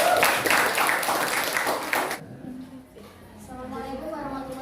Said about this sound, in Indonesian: Kita beri tepuk tangan ya untuk kelompok NATO.